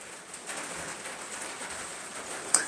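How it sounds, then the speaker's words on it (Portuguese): Rain falling steadily outdoors, a soft continuous hiss of drops on surfaces, fairly quiet, with a brief sharp sound near the end and no talking. "Vamos chegando com barulhinho de chuva."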